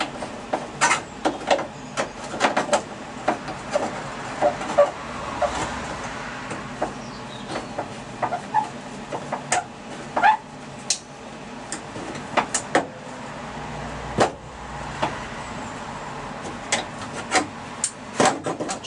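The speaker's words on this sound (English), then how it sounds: "Bend a piece of metal up, you know. Yeah, that's bent up quite nicely." Metal is bent by hand during fabrication work on a Mk3 Cortina Estate, giving a run of close, irregular creaks, clicks and scraping knocks spread across the whole stretch, with no voices.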